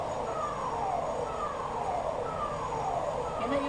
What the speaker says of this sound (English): Then the siren.